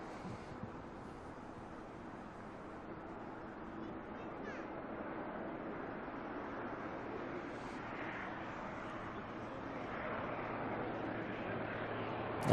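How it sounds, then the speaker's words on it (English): A Caravan aircraft comes in to land at Auckland Airport, its propeller engine a steady, fairly distant drone mixed with wind noise. Faint voices murmur underneath. "Nothing wrong with a cheeky little caravan coming in."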